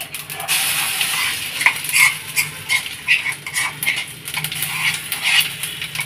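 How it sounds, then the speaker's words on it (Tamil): Ginger paste sautés in sesame oil in a pan, giving a close, steady sizzle. A spoon stirs it with repeated scraping and clinking against the metal, and no one speaks. "தாளிச்சாச்சு, நம்ம இதை போட்டு வதக்கிடுவோம்."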